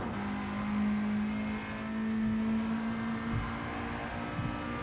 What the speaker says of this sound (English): There's someone behind me. I can hear an engine.